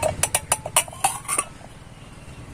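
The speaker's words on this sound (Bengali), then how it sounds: "এবার আমি বাটির মধ্যে ঢেলে নেব" Chopped pieces of soap bar tipped into a bowl, a quick run of light, bright clinks and clatters that settle into quiet.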